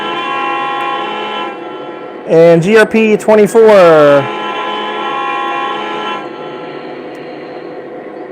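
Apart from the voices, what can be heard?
Lionel model trains running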